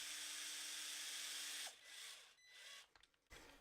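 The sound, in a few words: power drill driving screw into RC car shock mount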